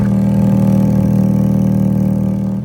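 Ferrari F430 on a cold start, its engine idling with a loud, steady, deep exhaust drone up close, holding level before easing slightly at the end.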